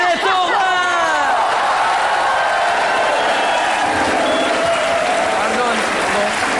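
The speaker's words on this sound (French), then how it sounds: "Mesdames et messieurs, sous vos applaudissements" French TV studio audience applauding loudly, with cheers and whoops mixed in, while voices and a sung or whistled tone rise over the continuous clapping.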